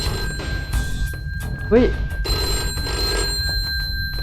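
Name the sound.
telephone ringing in video game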